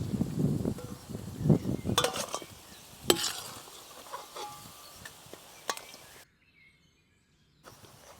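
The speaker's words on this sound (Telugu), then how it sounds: "ఇప్పుడు ఒక డేషాలో వేసుకుని అల్లం వెల్లుల్లి పేస్ట్ వేసుకుని వేయించుకుందాం" Chicken pieces frying with ginger garlic paste in a pan, a soft sizzle under scraping stirs and a few sharp utensil clinks, then a brief silence before the sizzle returns.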